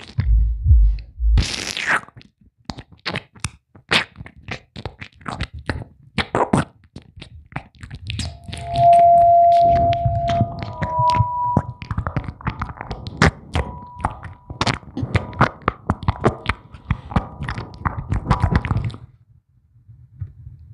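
Wet, sticky squelches and plops of gooey slime repeat in quick irregular bursts for about twenty seconds, close and crisp, with a brief tonal hum partway through and no talking.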